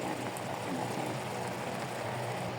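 Chicken biryani broth simmering in a covered pot, a dense steady bubbling hiss that stays close and constant from start to finish.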